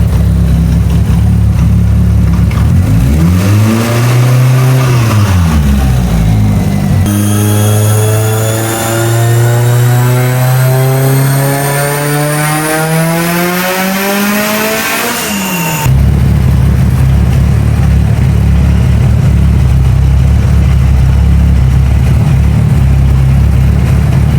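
A Mitsubishi Evo 8 with a PTE62 turbo runs on a dyno. It idles loudly, then surges into a long rising pull that climbs steeply before cutting back to a rough idle.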